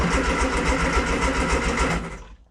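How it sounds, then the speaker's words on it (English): A Classic Mini engine cranking over without firing, with no fuel and its HT leads disconnected: a loud, close, rhythmic starter churn for about two seconds that then cuts off and fades. "So, the engine cranks over. It's not going to fire because obviously my HT leads aren't attached."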